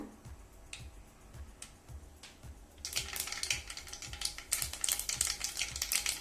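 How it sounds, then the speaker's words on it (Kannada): Mustard seeds go into hot oil in a pan for vangi bath. Soft crackling builds into a dense burst of sharp, rapid pops and splutters, close and lively, with no talking. "ಸ್ವಲ್ಪ ಸಾಸಿವೆನ ಹಾಕೊಂಡು ಸಿಡಿಸ್ಕೊಳ್ಳೋಣ."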